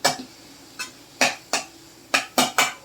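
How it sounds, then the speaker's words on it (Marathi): Grated radish is stirred and sautéed in a pan, a metal spatula striking and scraping the pan in about seven sharp, irregular clanks, close and fairly loud, with no talking. "आता भाजी आपण छान हलवून घ्यायची अशी छान परतून घ्यायची"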